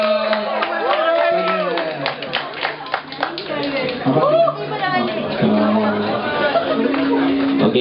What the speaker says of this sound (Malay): Berikan tepukan.